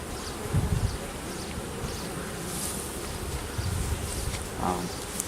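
Honeybees buzzing around an open hive during an inspection, a steady close droning hum with individual bees zipping past now and then.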